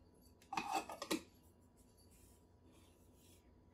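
Plastic lid pressed onto a cup at a Keurig coffee station, a cluster of quick clicks and rubbing snaps close by, then quiet room tone.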